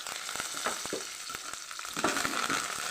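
Curry leaves hit hot oil for tempering, crackling and sizzling up close in sharp popping bursts over a steady fry, with no talking.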